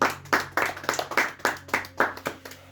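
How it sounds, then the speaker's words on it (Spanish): A church congregation clapping in a rhythmic beat, distinct claps arriving roughly every quarter second over a faint low hum, moderately quiet and steady. "Démosle un fuerte aplauso a la palabra del Señor"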